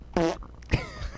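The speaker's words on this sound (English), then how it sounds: "fantastic content like all the fart sounds you heard tonight" Fart sound effects played during a live-streamed podcast, a short burst of two brief flatulent blasts, fairly close and loud, with no talking over them.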